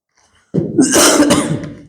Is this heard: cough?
yes